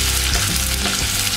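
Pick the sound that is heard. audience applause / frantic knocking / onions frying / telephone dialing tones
onions frying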